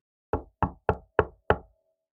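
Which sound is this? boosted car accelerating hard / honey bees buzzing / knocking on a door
knocking on a door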